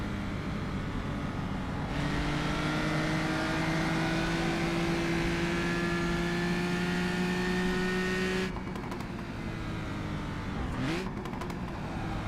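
A historic race car from a road racing sim mod, lapping the Rouen circuit, drones loudly with a steady rising engine note, then cuts out for a slow gear shift before the revs climb again.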